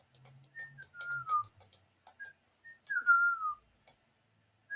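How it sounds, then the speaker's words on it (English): A person whistles in a game-playing setting, a few short tonal phrases with sliding pitch between pauses, accompanied by scattered light clicks like keyboard typing nearby. "Stop whistling, that's really getting annoying."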